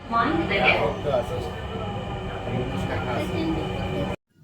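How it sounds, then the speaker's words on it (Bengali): A Dhaka metro rail train running, a steady low rumble and hum of the carriage with passengers talking over it, cutting off abruptly just before the end. "এভাবেই চলতে থাকলো আমাদের মেট্রো রেল।"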